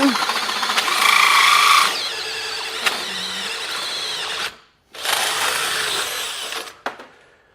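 A Hercules drill bit from Harbor Freight bores through material at speed 2, a loud steady whining drone that runs for a couple of seconds, eases under a lower grind, stops briefly, then resumes close up.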